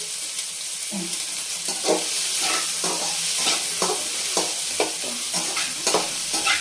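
Sliced onions fry on a low flame for egg bhurji, a soft steady sizzle broken by repeated scraping strokes of a spatula stirring the pan, close and without talk.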